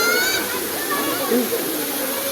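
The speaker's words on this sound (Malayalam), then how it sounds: "ആഹാ ഇതാണ് വെള്ളച്ചാട്ടം" A waterfall visited by people carrying umbrellas and getting wet gives a loud, continuous broadband roar of rushing water close by, with a voice speaking over it.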